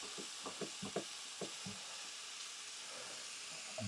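Minced meat sizzles and hisses steadily in a frying pan while a utensil taps and scrapes to break it up, soft irregular knocks over a constant frying hiss.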